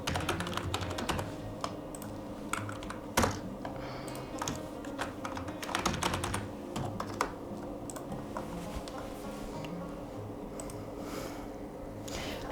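Rapid typing on a computer keyboard while filling in a sign-up form, a steady stream of close, quiet key clicks with a few sharper taps, continuous for the whole stretch with no voice.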